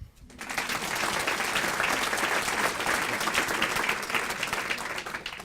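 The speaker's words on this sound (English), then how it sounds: "Can everybody please clap your hands?" A standing audience at a 50th annual civic awards ceremony gives a dense, loud ovation, many hands clapping steadily after a brief quiet start and continuing without pause.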